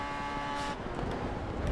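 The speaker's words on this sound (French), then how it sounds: "vous entendrez bien aussi les voitures. Le bruit des moteurs." Racing car engines from the Grid Autosport racing game, a steady loud engine roar with a brief rising surge partway through, no talking.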